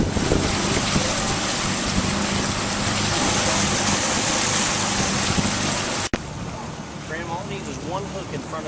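A speedboat passes on the water during a fishing trip, its engine roar blending with heavy wind buffeting and water rush for about six seconds before the sound drops to softer wind and water.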